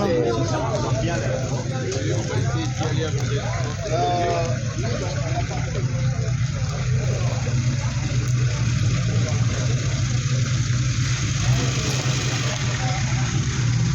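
A Ford Mustang engine idles with a deep, rumbling hum, steady and close, while people talk over it at a car show on the Route Nationale 7 in Valence.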